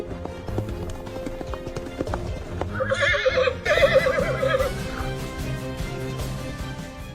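A white horse gives a loud, shrill whinny midway, set against busy hoofbeats and a rumbling background of movement that continue before and after the call.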